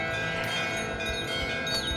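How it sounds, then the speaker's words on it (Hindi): A bright, sustained metallic temple bell tone rings steadily, its overtones hanging in the air with faint background rustle. "मंदिर की घंटी"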